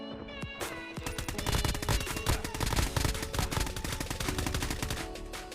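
Rapid automatic gunfire from a Call of Duty multiplayer match rattles nonstop in dense, loud bursts after a single opening shot, with no talk over it.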